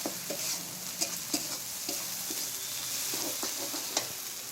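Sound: turmeric sizzling in hot oil in a frying pan

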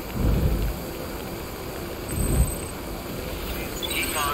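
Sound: rain and thunder in video game Death Stranding

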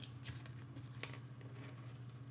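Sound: unpacking a Pergear CFexpress card from its packaging

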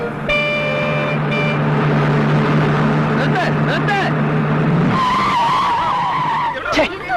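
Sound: bus brakes screeching loudly

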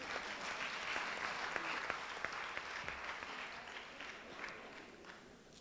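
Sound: audience applause in a lecture hall

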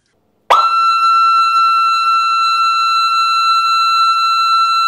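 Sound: steady siren tone from Moose MPI-11 siren driver

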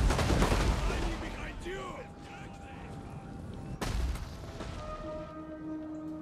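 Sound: artillery shots fired in video game Total War: Rome 2

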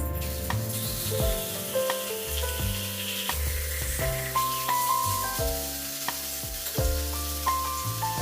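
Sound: fish frying in hot oil in a kadai

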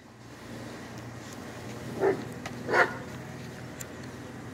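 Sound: dogs barking

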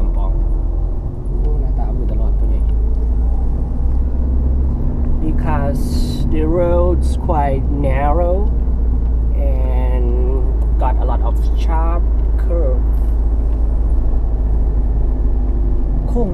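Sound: car driving on a narrow steep road

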